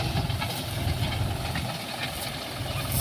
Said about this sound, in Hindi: देखो बिना ड्राइवर ट्रैक्टर चलता है हमारे खेत में